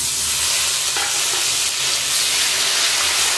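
Spices being stir-fried in hot oil with bay leaf, dried red chilli and green chilli paste for a prawn and banana flower curry, a continuous loud close sizzle with stirring scrapes throughout.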